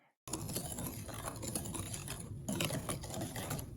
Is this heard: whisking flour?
yes